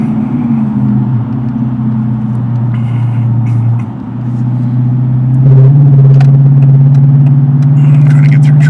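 A car drives through traffic, its steady low engine drone rumbling from inside the cabin and swelling slightly louder partway through, with faint clatter and no talking.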